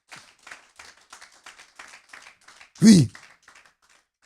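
A church congregation bursts into a short, loud round of applause for the king of kings, following a rhythmic series of lighter taps or claps. A voice is heard briefly.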